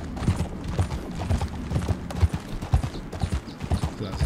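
Horses walk across a thick frozen lake in the Red Dead Redemption 2 video game, their hooves landing in a steady, close, fairly loud clip-clop rhythm, with no talking.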